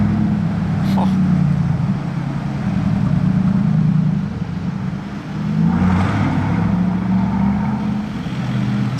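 A Mercedes SLR on a Monaco street sounds its engine, a steady low rumble that swells and revs twice, loud and close, with people chatting faintly in the background.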